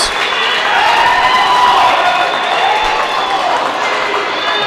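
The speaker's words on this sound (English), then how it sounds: "Crowd applauds as" Spectators at a varsity high school hockey game applaud and cheer in an ice rink, a dense, sustained crowd roar with clapping that stays loud throughout, echoing in the arena.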